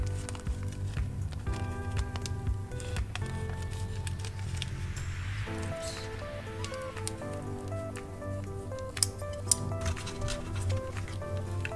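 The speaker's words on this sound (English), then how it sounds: "Then you simply cut around that plastic" Scissors snipping through a softened thermoplastic sheet, a series of quiet irregular cuts and crinkles close by, with faint handling noises and no talking.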